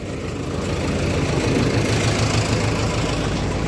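A JCB backhoe loader's diesel engine idles close by, a steady, loud low rumble with a faint knocking rhythm throughout.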